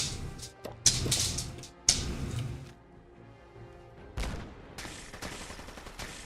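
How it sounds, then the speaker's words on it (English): Gunfire from the video game Fallout 4: a few sharp shots near the start, then a pause with quieter game background, then more bursts of fire toward the end, all moderately loud with no talk over them. "Who are you shooting at over here?"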